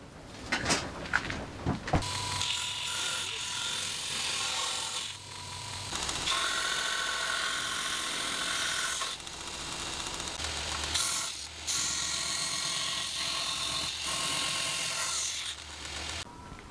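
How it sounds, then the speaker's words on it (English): A grinder whines while thinning the blade of a homemade friction folder knife, a loud steady grinding rasp that starts and stops in several long passes with brief pauses between. "So, now we're going to take it to the grinder"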